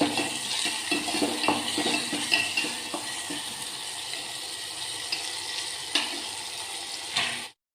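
Chopped tomatoes sizzle and fry in a hot pan during homemade rasam cooking, a steady close crackle with occasional stirring scrapes and clinks, no voices.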